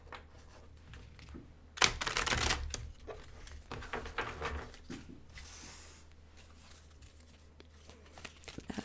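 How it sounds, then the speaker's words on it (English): Tarot cards being pulled and shuffled in a quiet room, with soft papery riffles, flicks and slides in irregular bursts, close and faint. "I'm going to go ahead and I'm going to pull another card here."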